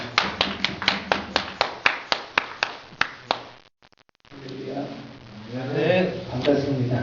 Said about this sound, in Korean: 우리 목사님 나오셔서 강의해 주실 텐데 다시 한번 나오실 때 뜨겁게 감사의 박수 드리면서 환영하도록 하겠습니다